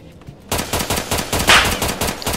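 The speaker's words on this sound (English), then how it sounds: "Oh, I hear shots over here." Video game gunfire bursts in after a quiet start: rapid machine gun shots in a dense rattling stream, loud and close, with one sharper crack mid-burst.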